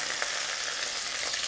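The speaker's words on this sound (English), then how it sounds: "Now we start to fry in other side for about 3 minutes" Chicken fries in hot oil in a pan, giving a dense, steady sizzle with faint crackles, close up and with no talk over it.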